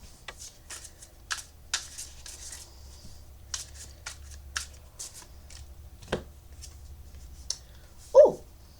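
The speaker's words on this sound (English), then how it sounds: "do a nice little shuffle" Tarot cards are shuffled by hand in quiet, crisp bursts of riffling and flicking, spaced irregularly, with a short voiced sound near the end.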